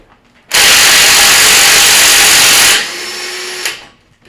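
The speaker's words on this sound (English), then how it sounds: "that's when you're ready to put the wrench on it." Loud power ratchet-style tool spinning off strut nuts on a 2012 Ford Explorer during a strut replacement: a sustained whirring burst of about two seconds that steps down to a quieter running tone before stopping, with no talk.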